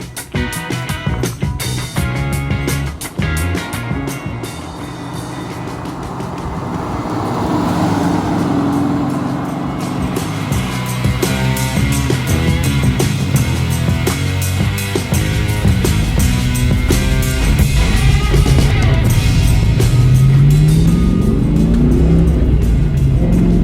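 A 1993 Ford SVT Mustang Cobra's V8 drives from inside the car, loud and near, the engine revving up through the gears with a dip as it shifts before climbing again in a steady pull.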